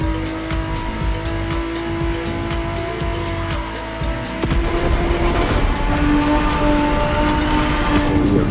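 Car racing in the video game The Crew Motorfest, a sustained engine drone with tire squeal that swells louder and rougher midway as the car pushes harder on the track.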